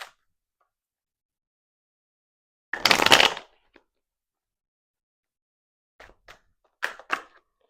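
Tarot cards being shuffled by hand in short, close bursts: one longer riffle, then a few quick taps and a couple of brief shuffles, separated by near silence.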